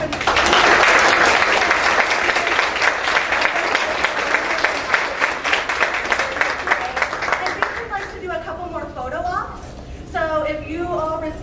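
Audience applause at a student awards ceremony, hearty clapping from a roomful of people that fills the first several seconds and then thins out as voices start talking near the end.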